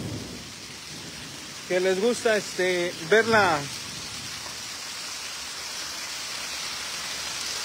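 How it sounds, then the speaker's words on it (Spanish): Heavy rain hisses steadily throughout, with a low rumbling undertone of a storm, while someone speaks briefly in the middle. "nada más qué bonita es la tormenta"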